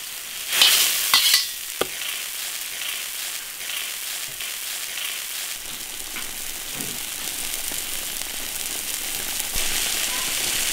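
Tofu dropped into a hot iron wok for mapo tofu, with a loud splashy sizzle at first, then steady frying hiss and occasional stirring scrapes throughout.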